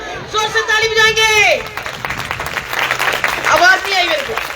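A church congregation claps loudly at a Christmas celebration, a dense rattle of many hands swelling between stretches of a raised voice speaking over the room.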